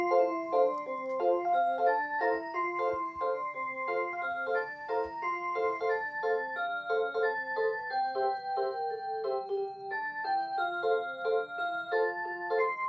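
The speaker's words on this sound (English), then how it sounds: "I'll demonstrate the music too so you can hear the music that this plays." A Seiko QXM609NRH rhythm clock plays a bright, steady chime melody of bell-like notes, continuous and clear for the whole stretch with no talking.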